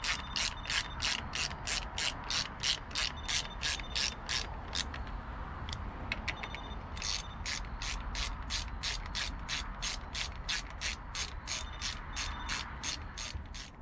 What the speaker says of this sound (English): With the help of a 10mm socket, remove the screws holding the coils.